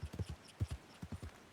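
Horse hooves clip-clopping in Red Dead Redemption 2 for a new Arabian horse, a quick irregular run of soft thuds in small clusters, close and fairly quiet, with no talking over them.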